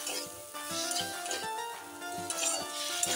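Soaked bitter gourd and boiled bottle gourd go into a hot frying pan for a Bengali shukto dal, a soft sizzle with repeated scraping and clinking of a spoon stirring against the pan.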